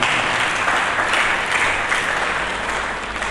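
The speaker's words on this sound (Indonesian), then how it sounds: "Mari kita berikan tepuk tangan yang meriah." A church congregation applauds during a sermon, producing a loud, dense and continuous wall of clapping from many people that holds steady throughout and eases slightly at the close.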